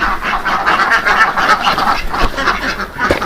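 Productive laying ducks on a Sukabumi duck farm quack loudly and constantly, many birds calling over one another in a dense, close chorus with no talk.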